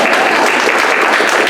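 A rally crowd claps loudly in a dense, sustained wash of applause, close and continuous, with no voices standing out.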